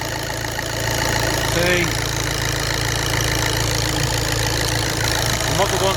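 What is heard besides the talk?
VW/Audi diesel engine idling with a loose glow plug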